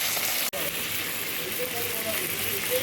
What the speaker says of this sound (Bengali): এই আলু কাঁচকলাটা একটু হালকা ভেজে নেব, মাছ ভাজা তেলেই ভাজছি।